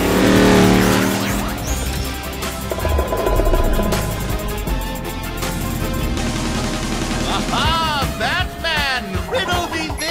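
The cartoon Bat Truck revs hard and peels out, tires squealing in sharp swooping skids over a roaring engine, with a whooshing departure and bright effects, loud and close.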